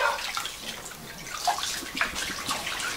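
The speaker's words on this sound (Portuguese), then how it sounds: "Dar banho recém-nascido." Water sloshes and splashes as a newborn baby is bathed in a small tub, soft, continuous and close, with no talking.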